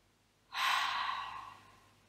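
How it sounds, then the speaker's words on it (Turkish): A single deep breath taken during a guided breathing exercise, a sudden airy rush that swells and slowly fades over about a second and a half, close and clear with no talking. "Son bir tane daha nefes alın."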